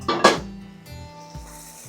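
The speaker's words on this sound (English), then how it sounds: "We're gonna give it a stir, make sure we're not sticking." A spoon clanking against a pot of simmering rigatoni sauce, two close metallic knocks followed by softer scraping stirs, with no talk.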